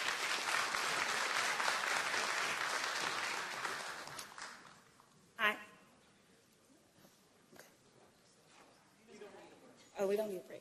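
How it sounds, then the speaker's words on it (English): An audience at an industry planning briefing breaks into dense, steady applause that carries for about four seconds, then fades away, followed by a few short bursts of a voice in a quiet hall. "Let's give OCS another round of applause."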